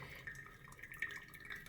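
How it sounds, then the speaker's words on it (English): Hot water poured over a paper filter in a Chemex glass coffee maker, a quiet steady trickle and splash with faint dripping, close by and with no talk. "you take that water and you pre-wet the filter"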